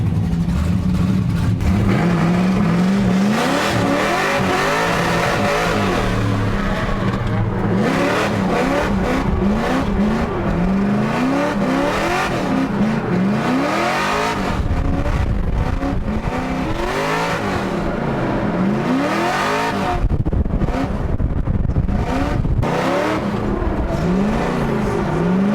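LS V8-swapped Mazda Miata driving solo on a skid pad, its loud engine revving and falling in repeated sweeping waves for the whole stretch, close and continuous.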